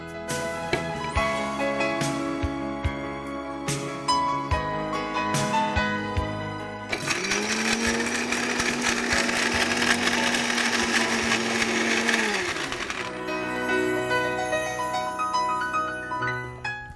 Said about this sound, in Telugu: సో ఇప్పుడైతే నేను కొబ్బరి అలాగే ఇలాచీ వేసేసాను కాబట్టి ఒకసారి మిక్సీ పట్టేస్తాను.